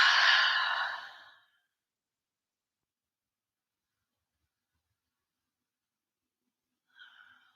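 A slow, soft exhale of breath during a yoga forward fold, close and quiet, fading out over about a second, followed by long silence and a brief faint breath near the end.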